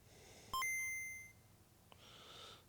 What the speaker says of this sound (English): If my phone stops spamming me with notifications I do not care about